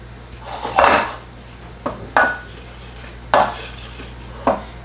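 Flour and salt are stirred together in a bowl for homemade pasta, giving four separate scraping, clinking strokes of a utensil against the bowl, close up, with short pauses between them and no voices.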